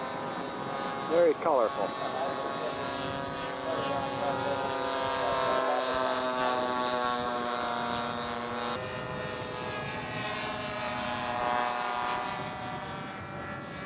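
A radio-controlled scale model Fleet biplane flies at a scale aircraft show. Its small engine makes a steady buzzing drone that rises and falls in pitch as it passes, with a brief announcer comment and crowd voices over it.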